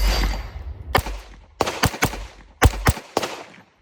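Ruger TX22 pistol firing at an outdoor range, a booming first report followed by about six sharp, close shots in quick uneven pairs and singles, with no voices between them.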